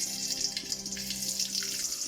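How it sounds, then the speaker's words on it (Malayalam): Mustard seeds spluttering in hot oil, a continuous dense hissing crackle close to the pan with faint pops on top, no voices. "നമ്മുടെ എണ്ണ ചൂടായി, നമുക്കിതിലേക്ക് കടുക് ഇട്ടു."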